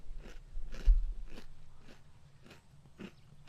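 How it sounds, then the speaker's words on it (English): Crunchy Melba toast being bitten and chewed close up, about six separate crisp crunches spaced roughly half a second apart, fairly quiet with a low hum underneath. "I'm eating a Melba toast. I like crunchy stuff."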